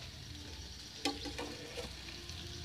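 Potato jalebi for a fasting-day recipe fries quietly in hot oil after being flipped, giving a soft, steady sizzle with a single brief clink near the middle.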